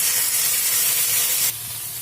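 Spices hit hot oil in a cooking pan and set off a loud, steady, bright hiss that carries on unbroken, then drops suddenly to a quieter sizzle partway through; no voices.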